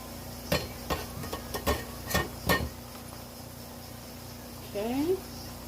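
Potatoes frying in hot grease: a steady, hissing sizzle, with a run of sharp spatula taps and scrapes early on and a brief rising squeak near the end.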